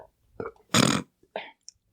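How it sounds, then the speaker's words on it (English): A single close, loud, throaty burp interrupts a podcast conversation, preceded and followed by a few soft mouth sounds and breaths. "I'm going to burp real quick."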